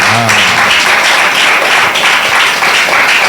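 A church youth meeting audience claps loudly and steadily, a dense, continuous wash of applause filling the room from start to finish.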